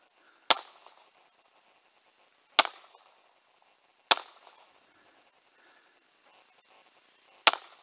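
Four sharp, loud gunshots fired left-handed in a VR video game, spaced a second or two apart with quiet gaps between them, no voices.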